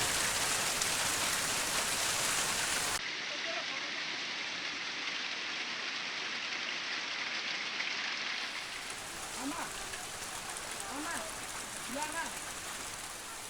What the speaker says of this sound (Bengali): শিলাবৃষ্টির পরিমাণ বেড়ে যায় এবং চারিদিকে সাদা হতে থাকে